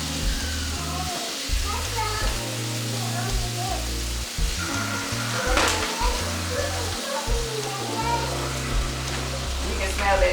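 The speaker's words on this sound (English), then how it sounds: "So we're gonna get this shrimp in here. We're gonna let that cook." Shrimp fry in a hot pan for Cajun shrimp pasta with a loud, continuous sizzle throughout, while a person talks over it and background music plays.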